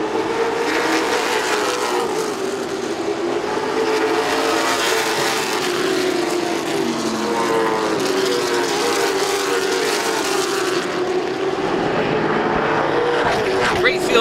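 A field of twenty-plus late model stock cars racing at Southern National Motorsports Park, their engines roaring loud and continuous as they pass, pitch rising and falling, with a commentator's voice talking over the din.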